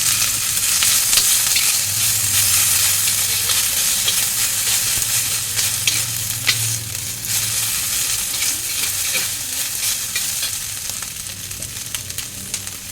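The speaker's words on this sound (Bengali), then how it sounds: "আর যে 5 ফোড়ন দিয়ে দিলাম। একটু আদা বাটা দিয়ে দিলাম।" Panch phoron and ginger paste fry in a pan, making a loud, dense and constant sizzle heard up close. Occasional stirring scrapes cut through it, and no one speaks.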